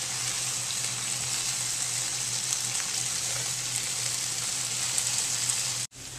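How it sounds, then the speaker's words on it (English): Chicken fajita strips and onions sizzle steadily in a hot pan as they are stirred, a dense, even hiss at close range that runs unbroken until a brief dropout near the end. "and add our onions. Now we're going to stir this all together."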